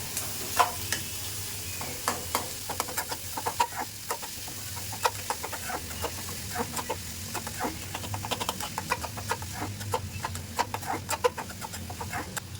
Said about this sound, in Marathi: तर बघा थोडंसं तेलामध्ये परतून झालं आहे.